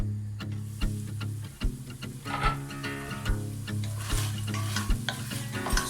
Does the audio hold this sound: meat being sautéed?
yes